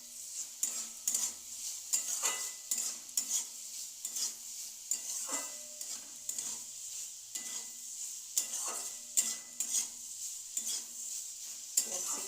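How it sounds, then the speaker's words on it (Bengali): Egg pasta with capsicum and onion stirred and fried in a pan, repeated rhythmic scraping stir strokes over a faint steady sizzle, close and without talking. "নেড়ে চেড়ে ভেজে দিচ্ছি।"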